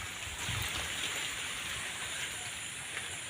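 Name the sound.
rain falling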